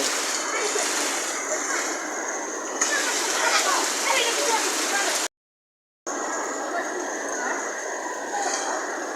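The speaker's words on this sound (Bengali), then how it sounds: "এত পরিমাণ বৃষ্টি" Heavy downpour roars as a dense, steady wash of splashing water, with voices talking over it and a brief cut to silence partway through.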